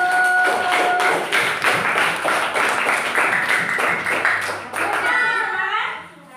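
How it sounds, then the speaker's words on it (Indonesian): A classroom group applauds a presenting group, a dense patter of hand claps that holds steady for several seconds before trailing off, with a voice heard briefly over it. "Tepuk tangan untuk kelompok 1."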